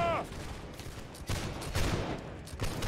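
Overlapping musket shots crackle from a line firing in Holdfast, several loud reports scattered across the moment, with a brief voice at the start.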